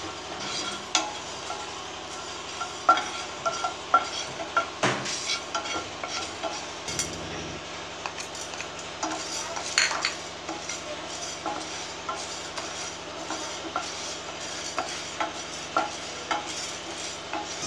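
Fenugreek seeds and ginger pieces dry-roasting in a pan, with steady scraping and stirring, light clinks of a spoon against metal and a faint sizzle throughout, close and fairly quiet with no talk.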